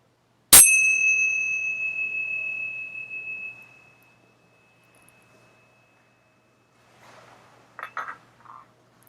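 A meditation bell is struck once with a sharp attack, then its clear tone rings and slowly decays for about three seconds, followed by quiet and faint rustling.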